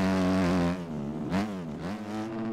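Motocross bike engine in the game MX Bikes, buzzing loudly up through the revs, dropping briefly as it shifts gear, then climbing again close up.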